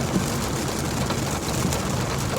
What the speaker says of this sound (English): Wow, it is really loud, the rain.